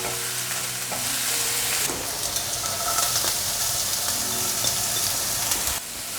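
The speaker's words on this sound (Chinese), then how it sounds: "芹菜的叶子也一起放进来，快速翻炒。" Celery stalks with their leaves and carrots stir-fried in a hot wok, a steady close sizzle broken by repeated scraping and tossing strokes of the spatula.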